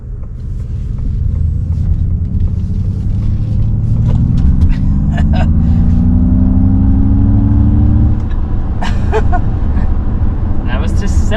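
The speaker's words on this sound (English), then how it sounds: "But first, let's start with hard acceleration." A 2023 Ford Mustang Mach-E GT electric SUV accelerates hard up to about 70 mph, with a steady loud cabin rumble and a rising electric motor whine throughout, and a voice speaking briefly over it.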